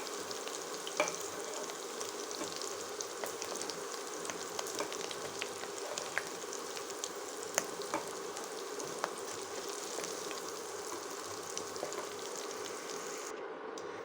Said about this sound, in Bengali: আমার আলুটা ভাজা পুরোপুরি রেডি হয়ে গেছে